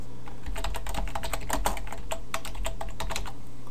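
Fast, uneven clatter of keys on a computer keyboard, many sharp clicks in quick bursts against a steady low hum.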